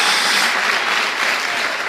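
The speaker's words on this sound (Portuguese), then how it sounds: "Uma salva de palmas do Senhor." A church congregation gives a loud, sustained round of applause during a sermon, an even continuous roar of clapping with no pauses.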